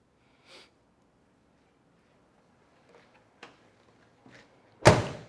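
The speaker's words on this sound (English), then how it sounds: "Door shut really nice." A few faint clicks in near silence, then a single solid, close thud as the door of a 1968 Oldsmobile 442 shuts firmly.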